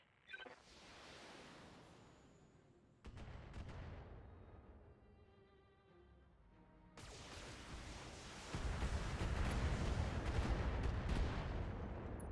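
Video game gunfire and heavy explosive blasts arrive in separate loud bursts with rumbling tails, building to a dense roaring barrage toward the end, with no voices.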